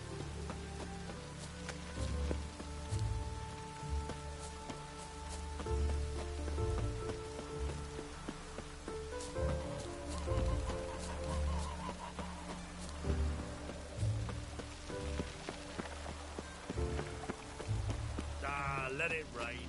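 Steady rain patters and hisses beneath layered music in the video game The Witcher 3, with a low voice surfacing now and then.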